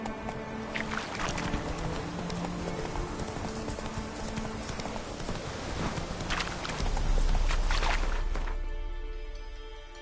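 Roach, Geralt's horse in The Witcher 3, trots in clip-clop hoofbeats under a busy game soundscape, and a louder low rumble swells in near the end.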